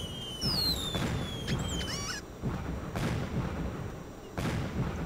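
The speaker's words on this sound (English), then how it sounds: "Why do you gotta get so many fireworks?" Repeated booming bursts of video game fireworks, about four heavy blasts spaced a second apart, with whistling streaks early on.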